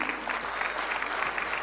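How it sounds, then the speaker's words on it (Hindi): An audience at a motivational talk applauds in a continuous, even wash of clapping, moderately loud and heard alone without voices. "आपकी तालियां खुद ब खुद बज रही हैं"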